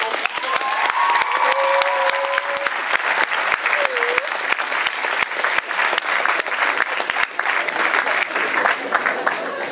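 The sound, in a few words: lecture audience applauding three actors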